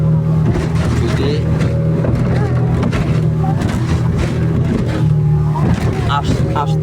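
A speedboat travels across open sea to Saint Martin's Island in the off-season, its engine giving a loud, steady, close roar mixed with wind and water rush and no pause.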